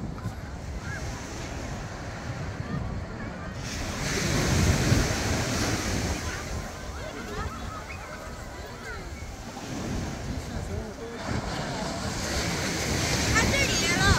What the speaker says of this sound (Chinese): 聽到啲海浪聲